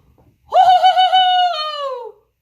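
A voice imitating an owl's hoot: a single loud, sustained, hollow call about one and a half seconds long, close to the listener, with silence before and after.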